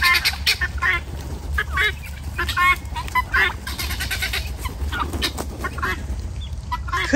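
Domestic geese honking in repeated bursts near a hiking trail, loud and close over outdoor noise, with a person talking briefly among the calls.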